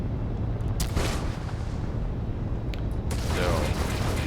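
Starship weapons in Starfield fire together, with sharp bursts and crackling blasts over a low rumbling engine drone, while a voice talks over the volleys.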